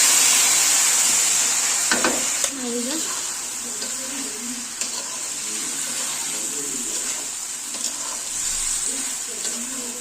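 Boiled jackfruit tipped into a hot pan of chili-spiced oil, a loud hiss and sizzle that settles into a steady frying crackle, with occasional utensil scrapes and stirring sounds.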